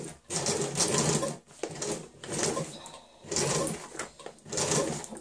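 A sewing machine stitching a curved seam in fabric, running in steady bursts of rapid mechanical whirring separated by brief pauses as the fabric is guided slowly, close and clear with no talk.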